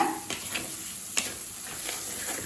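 Banana flower with ground chana dal being sautéed in a pan for a South Indian poriyal, with a soft steady sizzle and a few scraping spatula stirs spread across the moment, fairly quiet and without voices.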